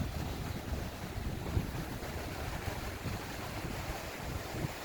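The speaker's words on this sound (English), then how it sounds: "You can see how fast that water is moving and how high it is." Fast, high river water running over its banks in the Great Smoky Mountains, a steady broad rushing wash mixed with wind buffeting the microphone, with no speech.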